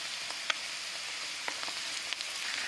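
Chopped vegetables hit a hot pan with oil for veg chowmein, giving a steady, fairly quiet sizzle with a few soft clicks and stirring taps.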